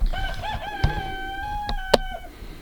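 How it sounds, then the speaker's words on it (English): Chickens in a farmyard setting, with a rooster crowing in long drawn-out calls and a few clucks, moderately loud and fairly close, with no talking over them. "All the chickens are going in the background."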